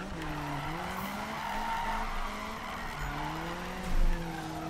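A Mazda Miata drift car in the Need for Speed 2016 video game skidding, with a sustained engine whine shifting in pitch over continuous tire squeal and a brief loud thump near the end.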